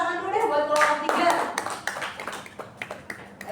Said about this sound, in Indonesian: tepuk tangan dulu deh buat kelompok 3